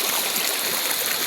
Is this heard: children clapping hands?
no